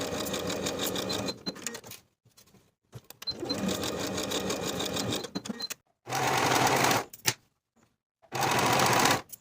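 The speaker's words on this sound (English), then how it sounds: "Sew with a 1/2 inch seam allowance" A sewing machine stitches the shoulder seams of a dress bodice at a half-inch seam allowance. It runs in three loud, whirring bursts separated by short silent pauses.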